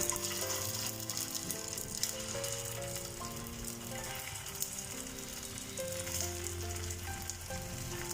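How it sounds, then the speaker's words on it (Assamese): Potato and poha patties sizzle and crackle in hot oil, a steady frying hiss with small pops and faint clinks, fairly quiet and without speech. "আৰু বাকীকেইটাও মই এইদৰে ভাজি ল'ব লাগিব।"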